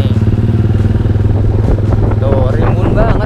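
A custom motorcycle rides through a university campus, its engine a steady loud throb close by while someone talks over it throughout.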